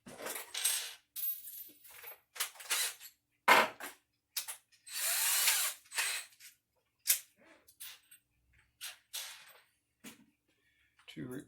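Screws and washers handled during fleece replacement on a western saddle, heard as scattered, close metallic clinks, rattles and scrapes separated by quiet gaps.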